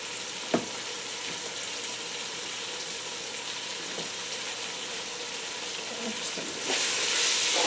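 Beef stew simmering and sizzling in a pot as it is stirred, a steady frying hiss with a sharp knock near the start and the hiss swelling louder at the end, no talking.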